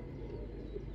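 A pigeon coos softly beside a net in a village, a low, continuous murmuring call over a brief, steady stretch with no voices.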